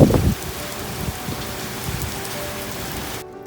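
Steady rain patters on a window pane after a summer thunderstorm, a dense even hiss with scattered drop taps, continuous and fairly close, cutting off near the end.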